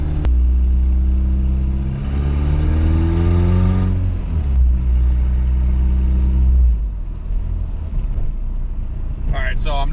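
A turbocharged Honda Del Sol with a D16z6 engine and Stage 3 cam comes into boost from inside the car, a loud droning rumble that rises in pitch and then drops back before easing off.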